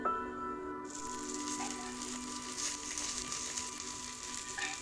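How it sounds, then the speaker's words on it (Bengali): Washed fish pieces sizzle in hot oil in a kitchen pan, ahead of a fish curry with cauliflower and potato. The frying starts abruptly and then holds a steady, close crackling hiss without talk. "প্রথমে কয়েকটি মাছকে ভালো করে ধুয়ে আমি ভেজে নেব।"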